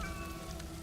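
A cat meows faintly in the Valorant INCURSIONS cinematic trailer, a single short meow over low background ambience.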